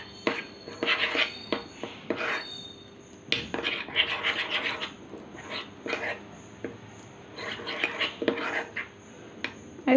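Lemon juice face mask ingredients being mixed in a bowl, heard as close scraping and clinking of a utensil against the bowl in irregular strokes, with a faint background tone.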